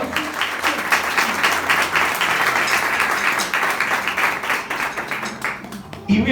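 A church congregation applauding during a sermon on the Lord's Supper, loud dense clapping from many hands that carries on for several seconds with voices mixed in, then fades toward the end.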